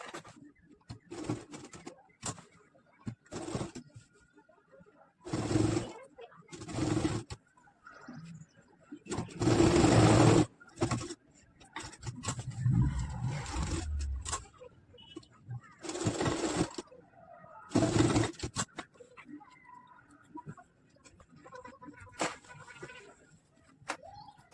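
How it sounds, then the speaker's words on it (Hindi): Short bursts of a sewing machine stitching an Arabic jubba, separated by pauses with light handling noise and a voice speaking quietly. "अब वही लब की सिलाई मारेंगे, वही पतली वाली सिलाई चारों तरफ मारने के बाद"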